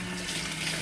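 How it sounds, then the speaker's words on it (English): Tap water runs steadily from a faucet as hair is wetted at a sink, a close, continuous broadband rush with no voices, lasting under a second. "The first thing we're gonna do is wet our hair just a little bit."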